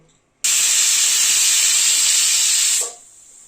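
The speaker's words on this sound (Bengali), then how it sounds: "এবার প্রেসার কুকারটা লাগিয়ে দিচ্ছি। একটা সিটি দিয়ে বন্ধ করে দেব। স্টিমটা রিলিজ হওয়া অবধি অপেক্ষা করব।" A pressure cooker with banana-flower curry on the stove gives a loud, steady whistling hiss of escaping steam for about two and a half seconds, then cuts off sharply.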